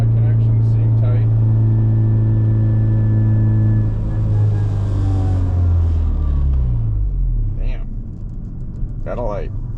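A Honda Civic Si engine running 26 PSI of turbo boost in third gear roars and rises in pitch before the revs drop away, heard from inside the car while someone talks over it.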